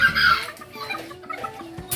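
Close, short clucks from a Serama bantam hen, repeated irregularly with small chirps in between.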